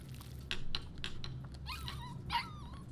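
A puppy whimpering and yipping in Life is Strange 2, several short high whines and squeaky yelps in a quiet indoor scene, close and moderately loud.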